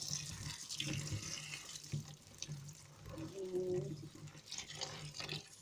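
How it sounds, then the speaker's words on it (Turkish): Eggplants and potatoes are rinsed together under a running kitchen tap, giving a steady, fairly close rush of water with splashing that continues throughout, a faint voice murmuring now and then in the background. "Bu arada patlıcanlarımızı da patateslerimizle birlikte güzelce yıkıyoruz"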